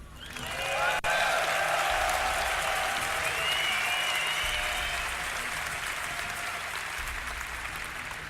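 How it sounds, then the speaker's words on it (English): A crowd at a StarCraft esports event applauds and cheers loudly for a Terran player, sustained clapping with whistles and shouts rolling on throughout, and a faint voice under the noise. "Make some noise for Puma"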